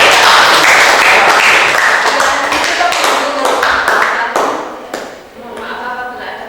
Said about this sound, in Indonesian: Boleh kita kasih tepuk tangan